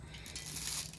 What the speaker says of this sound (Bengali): একটু ভেঙে ভেঙে দেবো তাহলে চাউমিনগুলো